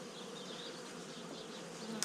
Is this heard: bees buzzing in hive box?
yes